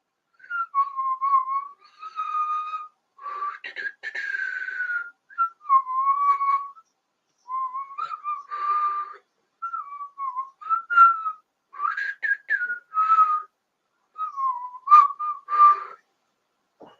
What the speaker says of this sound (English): I am whistling an Arsenal chant.